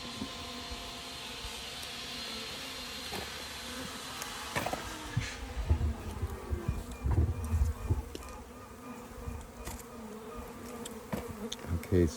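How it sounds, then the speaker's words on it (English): A dense crowd of honeybees buzzes around a hive that is being reduced to one box, a constant close hum with occasional thumps and handling knocks. "there's still a lot of bees"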